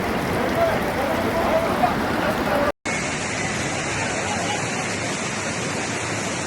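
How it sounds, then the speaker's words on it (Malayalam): Floodwater from a Wayanad landslide rushes down a road in a steady, loud roar, continuous and broad like a torrent, with a brief cut partway through. "ആ റോഡിലൂടെയാണ് ആ വെള്ളം ഒഴുകുന്നത് കേട്ടോ"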